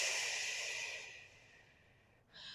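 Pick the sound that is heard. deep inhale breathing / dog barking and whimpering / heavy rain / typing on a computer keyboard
deep inhale breathing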